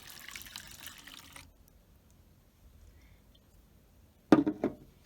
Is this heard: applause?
no